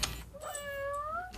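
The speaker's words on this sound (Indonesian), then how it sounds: "Bagi pensiunan ini, Ombi, si kucing robot, lebih dari sekedar mainan." A robot cat toy gives one drawn-out electronic meow, clear and close, following a brief clatter, in a care facility for elderly residents.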